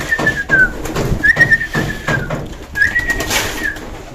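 Pigeons on a farm coo and call while being fed, with several overlapping coos and brief whistle-like calls repeating close by amid fluttering and shuffling.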